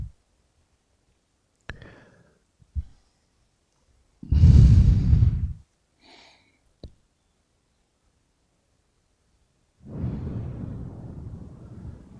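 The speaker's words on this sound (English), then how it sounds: "Strong breath in again, nice and deep." One deep, strong breath drawn in and let out as a loud, close sigh during a guided meditation, followed by a few soft clicks and then a second, longer, quieter exhale.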